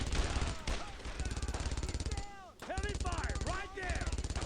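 Rapid machine gun fire in the Brothers in Arms: Road to Hill 30 World War II shooter, steady dense bursts running almost throughout, with a brief gap midway and a voice speaking over the shooting.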